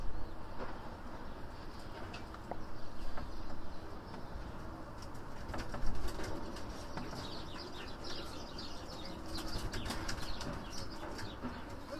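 Homing pigeon cooing and moving about amid faint wing flaps, a low steady murmur of bird sounds with a brief louder burst near the middle.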